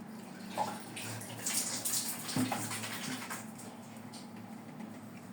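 A pet is bathed under running water from a tap, a steady splashing flow with small patters and splashes, close by.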